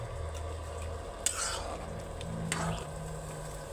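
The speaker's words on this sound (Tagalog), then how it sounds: "Niluluto-luto lang natin ng konti ang gulay at ang miswa" Vegetables and misua noodles with sardines cooking in a pot, with a steady low simmer under repeated close scraping and clinking stirs of a utensil against the pot, no talk.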